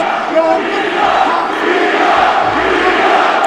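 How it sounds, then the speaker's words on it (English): A loud arena crowd at an MMA bout between Nate Diaz and Clay Guida roars and cheers for Guida in a sustained, swelling wash of voices with shouts rising out of it. "The crowd's cheering Guida."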